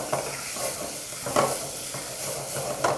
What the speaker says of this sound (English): So all you need to do now is just a bit of oil in there. Mix your matoke really quickly.